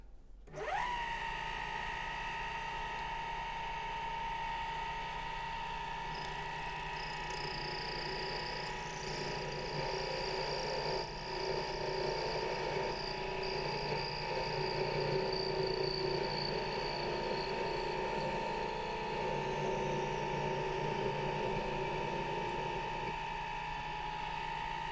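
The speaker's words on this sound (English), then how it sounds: "So I'm going to bring in my cutting blade, parting blade, and we'll just take this off." A lathe parting blade cuts through a small pin for a vintage drawer pull, giving a steady high whine with a faint squeal over the motor hum, fairly quiet and continuous.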